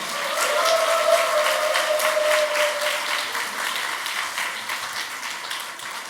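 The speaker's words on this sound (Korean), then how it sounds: "박수로 환영해 주십시오." A church congregation at a Friday worship gathering applauds to welcome the preacher, a warm, continuous wave of clapping that starts strong and slowly tapers, with a faint sustained tone beneath the first few seconds.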